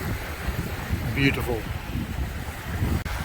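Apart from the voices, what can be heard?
wind at a coastal river mouth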